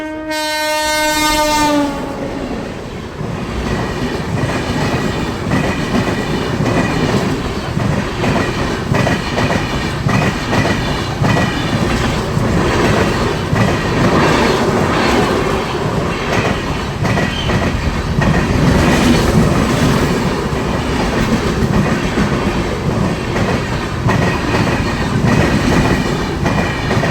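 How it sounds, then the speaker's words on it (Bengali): A large train passes close by on a railway line in Siliguri, West Bengal, opening with a loud horn blast, then a long steady roar with rhythmic clickety-clack of wagons rolling over the rails. "দেখো কত বড় একটা ট্রেন চলে গেল এখনই।"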